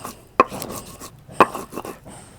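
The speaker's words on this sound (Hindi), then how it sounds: "उसको भी पीस लेंगे हम सिलबट्टे पर। मिर्ची को बहुत बारीक नहीं पीसना है," Green chillies are crushed on a stone sil-batta grinding slab, giving two sharp, close stone knocks about a second apart with soft scraping and rubbing in between.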